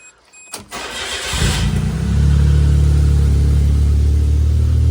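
A Suzuki Jimny engine cranks briefly, catches and settles into a loud, steady close idle with a low rumbling drone, preceded by a short click.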